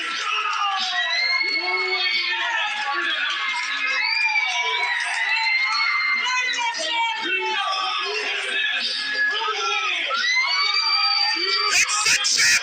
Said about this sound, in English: This crowd's feeling it here in Bay Cliff